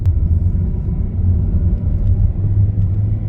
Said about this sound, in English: And I can hear it revving like it doesn't want to shift.